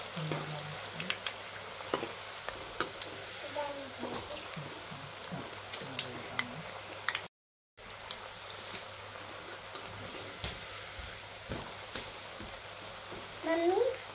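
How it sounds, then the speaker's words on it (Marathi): Coriander bhaji frying in hot oil, a continuous close sizzle with scattered ticks and pops, briefly cutting out midway, while people talk over it. "आपल्याला अजून ह्याला अर्धा ते 1 मिनिट छान तळून द्यायचे."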